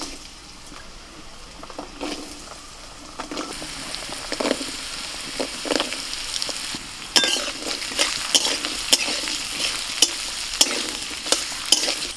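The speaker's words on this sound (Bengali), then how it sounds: "লঙ্কা ভাজা হয়ে গেছে, এবার যে ছোট ছোট করে আলুগুলো মা কুচিয়ে রেখেছিলেন ওগুলো দিয়ে দিচ্ছি" Small chopped potatoes dropped into hot oil after green chillies, sizzling steadily while a utensil scrapes and clinks against the pan, the stirring growing louder and busier toward the end, with no talk.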